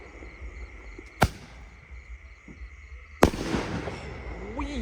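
Two sharp firework bangs a couple of seconds apart, the second followed by a crackling, sizzling burst and a rising whistle, with a steady background hum.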